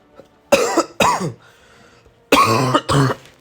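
Four harsh coughs, two quick ones, a short pause, then two more, loud and close.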